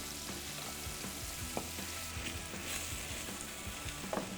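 Eggplant stews with onion and garlic in a pan for spaghetti alla parmigiana, giving a steady, close sizzle and bubbling with a few soft stirring clicks and no voices.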